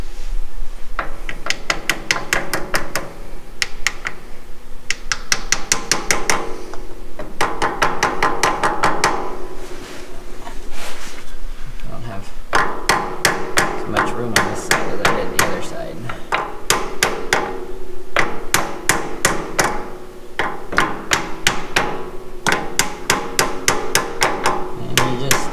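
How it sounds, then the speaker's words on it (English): A hammer tapping a part flat during a Farmall M tractor brake job, rapid runs of sharp metallic taps repeating in bursts, close and loud throughout, with no talking. "Give her all the taps until it's flat"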